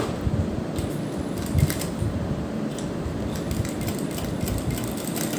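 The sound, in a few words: sewing machine stitching lace along a neckline edge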